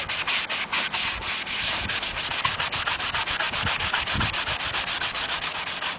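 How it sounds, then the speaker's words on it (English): Rapid back-and-forth scrubbing of a medium-grit sanding sponge over painted clone trooper armor plate, close up, in a steady even rhythm of quick strokes. "We're going to be using the medium grit sanding sponge and sanding over it."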